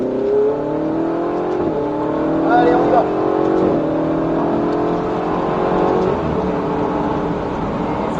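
Ferrari 488 GTB engine revving and accelerating from inside the car, a loud, steady rising drone with several upward pitch sweeps as gears climb, with a driving instructor speaking over it.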